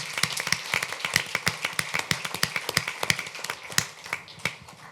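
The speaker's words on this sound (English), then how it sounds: "Give him a big round of applause." Applause at a town council meeting honoring a former police chief's son, a thin crowd clapping with distinct individual claps audible, moderately close and fading slightly toward the end.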